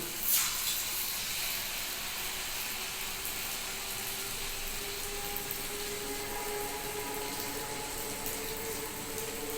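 Homemade kurkure dough fries in oil over low heat, making a steady, even sizzling hiss that holds for several seconds at moderate closeness, with no one talking.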